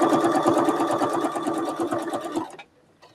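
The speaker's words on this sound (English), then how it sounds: "So I'm going to stitch over to the side just a little bit." A sewing machine stitches a quilt, running in a fast, even close-up rhythm of needle strokes for over two seconds before stopping abruptly, followed by a faint click.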